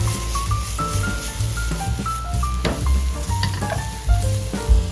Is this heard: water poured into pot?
no